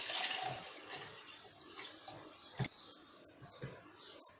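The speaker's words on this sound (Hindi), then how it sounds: "इसके अंदर मैं ठंडा पानी डाल लूंगी।" Cold water from the fridge is poured into a jug holding milk cream, making a faint, uneven splashing hiss with a few soft knocks, close by and without speech.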